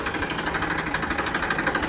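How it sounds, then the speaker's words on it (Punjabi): An Indofarm 3055 tractor engine runs steadily close by, giving off a rapid, even diesel knock with no talking. "ਟਰੈਕਟਰ ਦੀ ਬਾਤ ਤਾਂ ਸੁਣੋ ਬਾਈ"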